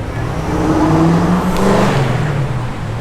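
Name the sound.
car engine revving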